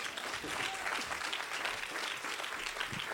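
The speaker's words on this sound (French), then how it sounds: "On peut acclamer pour lui." A church congregation breaks into steady, sustained applause that fills the room, with a few voices mixed in among the clapping.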